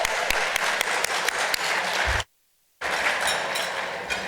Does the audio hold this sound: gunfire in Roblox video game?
no